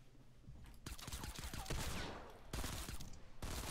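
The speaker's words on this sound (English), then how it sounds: "How am I missing all these bullets?" Gunfire from a shooter video game, rapid bursts of shots crackling in quick succession, mid-distance and fairly loud, with brief pauses between volleys.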